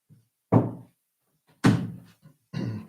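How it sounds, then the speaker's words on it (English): Three heavy thuds of a door being shut nearby, at 0.5, 1.6 and 2.5 seconds, each a sharp bang with a short rumbling decay, in an otherwise quiet room. "I'm gonna shut the door."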